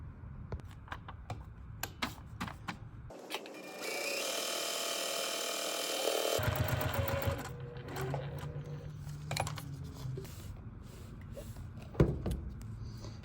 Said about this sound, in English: go back to the sewing machine.